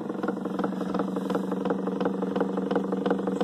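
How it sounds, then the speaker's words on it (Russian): A new magnetic motor runs steadily, giving a continuous mid-pitched hum with fast regular clicking pulses throughout, fairly close and unaccompanied by voices. "Новый магнитный двигатель."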